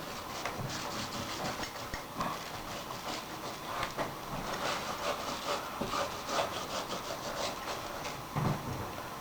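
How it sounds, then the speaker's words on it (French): Coarse salt is rubbed by hand into a slab of pork belly being cured for bacon, making a continuous gritty scraping with rhythmic strokes, close and fairly loud, with no talking. "On commence à mettre du sel dessus, on le frotte pour que le sel rentre comme il faut dans la viande."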